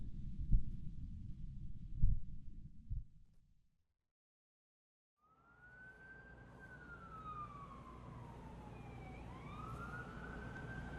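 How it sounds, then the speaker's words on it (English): In a video game, after a few dull thumps and a stretch of silence, a wailing siren rises and falls over a low rumble, continuing steadily at moderate volume. "Sirens."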